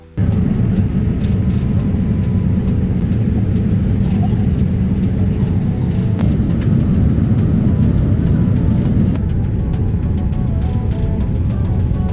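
Airliner touching down on landing in the Philippines, a loud steady cabin rumble of engines and runway roll throughout, with no talk over it.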